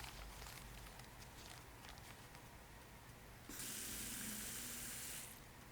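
Tap water runs into a glass for a drinking glass, a hissing pour starting partway through and continuing steadily for under two seconds, close and fairly loud after a quiet room hush.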